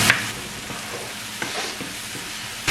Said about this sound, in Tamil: தக்காளி பழம் நல்லா வதங்கி நல்லா சாஃப்டாக வருமில்ல, அது வரையும் இதை நாங்கள் வதக்கியிருப்போம்.